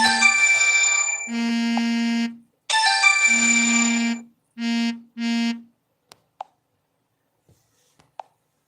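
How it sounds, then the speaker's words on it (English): An electronic phone ringtone plays for an incoming call, a bright melodic tone in several bursts that grow shorter, then stops, followed by a few faint clicks and taps. "Somebody trying to call, and I'm in the middle of."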